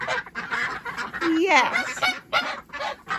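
Geese and ducks crowd a polytunnel with nearly continuous close honking and quacking, including a drawn-out rising call midway. A person speaks briefly.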